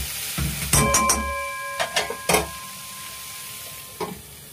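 Curry of taro stems and prawns, with mustard paste just added, being stirred in a pan. A few close scraping strokes come in short bursts with faint metallic ringing over a low, steady simmer.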